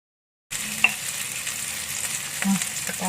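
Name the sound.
stirring ginger, bay leaves, lime leaves, star anise, cloves in pan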